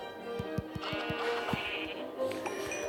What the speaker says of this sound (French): c'est ça que je recherche, c'est les moutons.